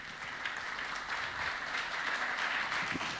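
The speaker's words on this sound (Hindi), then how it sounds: "कुछ कमजोर पड़ गई आपकी तालियां।" Audience applause at an Independence Day special event, a steady wash of many hands clapping, sustained and moderately loud with no talk over it.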